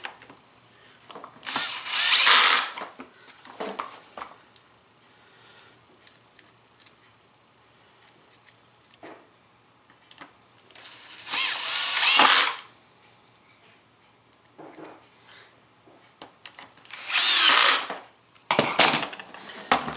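A power driver runs screws into the bottom of an old Bissell vacuum cleaner, with several short loud whirring bursts separated by quiet pauses and small handling clicks.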